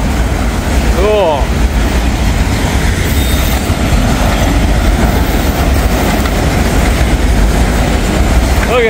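Locomotives of a passing train roll by loud and close in farm country, a continuous heavy rumble with rail clatter and a brief wheel squeal, steady throughout with no talking.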